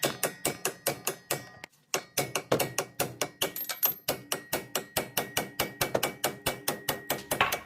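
Sharp metallic hammer taps in a fast, even rhythm, driving a strut bolt out of a Dodge Journey, with one brief pause before the strikes resume, close and loud.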